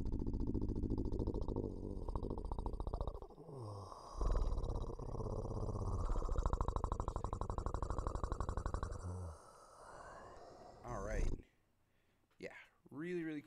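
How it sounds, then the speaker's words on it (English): A big cat growling as an animal sound sample: low, rough, rumbling growls that run continuously and fairly loud, breaking off near the end into a few short, separate bursts. "This is a big cat growling."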